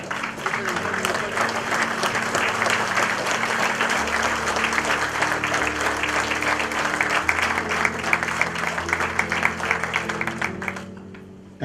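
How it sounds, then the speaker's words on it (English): Steady, sustained applause from an audience at an excellence awards function honouring the chief guest, a dense wash of many hands clapping that fades out at the very end, with low voices murmuring underneath. "Thank you very much for that round of applause."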